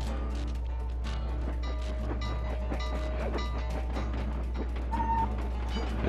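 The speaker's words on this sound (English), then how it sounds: "The train's coming too." Train approaching in the video game Sly 2: Band of Thieves, a steady rail rumble and clatter with a metallic screech near the end, heard over constant low game hum and music-like tones.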